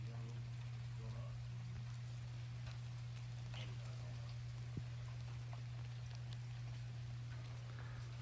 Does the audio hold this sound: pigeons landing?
no